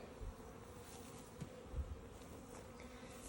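A swarm of honey bees buzzes steadily in the air outdoors near hives, a faint, continuous hum with a few louder bumps and knocks close by.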